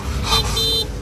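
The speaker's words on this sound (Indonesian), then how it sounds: "terdengar suara klakson motor" A motorcycle horn honks twice, a short toot then a longer sustained beep, over steady traffic rumble.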